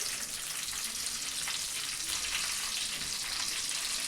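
Three green chillies fry in hot oil, giving a steady, dense sizzle with crackling spatter that holds at an even level throughout, with no voices.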